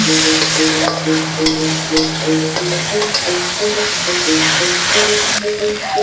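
Salted anchovies frying in a pan for Sundanese nasi liwet give off a dense, continuous close sizzle with occasional crackles, while a soft melodic tune plays underneath.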